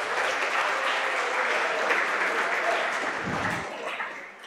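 Audience in a lecture hall applauding after a speaker's introduction at a science talk, steady dense clapping throughout, gradually thinning toward the end, with a brief low voice in the background.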